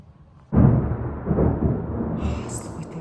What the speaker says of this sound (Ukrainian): а в нас тут збирається гроза літня